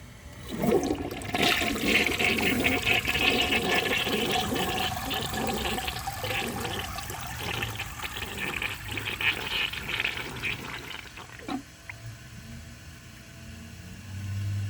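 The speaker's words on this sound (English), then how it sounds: "I'm going to wait for the tank to refill, and then I'm going to give you guys another flush." A 1978 Peerless toilet flushes loudly and steadily for about twelve seconds, a rushing, gurgling surge of water that tapers off to the quieter trickle of the tank refilling.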